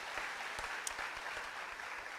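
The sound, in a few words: congregation applause in church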